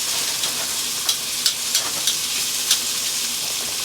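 Cauliflower steaks searing in melting butter in a pan give a steady bright sizzle, broken by several sharp utensil clicks and scrapes, close and moderately loud with no talking.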